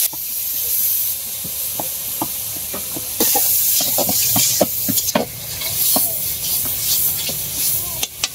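Spices such as cumin and bay leaf frying in oil in a pan with turmeric, salt and chili powder, a steady hiss and sizzle with scattered scraping taps of stirring, louder sizzling in the second half.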